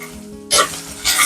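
Ginger and garlic fry in a pan with a steady sizzle, and two loud bursts of frying come as the food is stirred. No one speaks.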